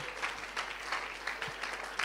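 Applause from a business breakfast audience in Nairobi, moderate and steady with scattered sharper claps throughout, no talking over it.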